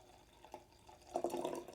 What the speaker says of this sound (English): now we're going to pour it into the glass.